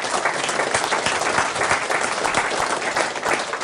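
Sustained applause from an audience, dense continuous clapping at steady loudness with individual sharp claps audible throughout, no voices over it.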